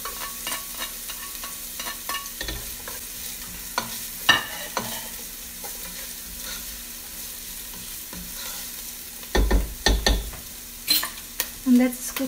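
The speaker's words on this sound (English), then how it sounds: "Now I'm going to add in the chopped garlic." Chopped garlic fries and sizzles in a pan for a chili con carne, with a steady hiss broken by scraping stirs and sharper clatters near the end, close and fairly loud with no talk.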